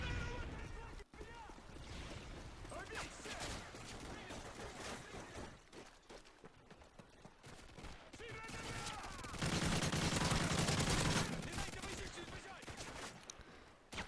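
Faint bursts of AK rifle fire crackle in a video game firefight, rapid rattling volleys repeating across the scene, with some louder stretches toward the end, kept low under game sound.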